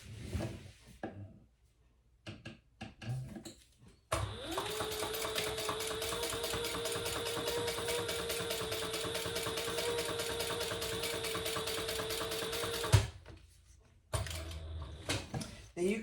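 A sewing machine stitches a seam on a sling bag at the pattern's seam allowance. It runs as one long steady hum for about nine seconds and is framed by shorter handling noises before and after.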